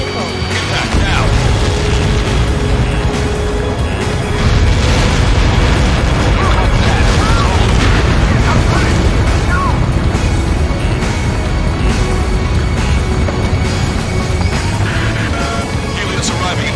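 Missile impact explosions in the air-combat video game Ace Combat 7, a dense, continuous rumbling barrage of booms and blasts sustained throughout, with radio voices talking over the din.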